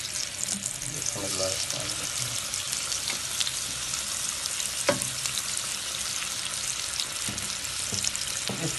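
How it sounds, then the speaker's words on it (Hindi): Beef burger patty frying over a low flame, a steady soft sizzle running throughout with a few faint scrapes and clicks of a spatula, close and continuous, with a brief murmur of voice. "इसको हम बिल्कुल हल्की आंच पे फ्राई करेंगे ताकि ये अच्छे तरीके से पक जाए"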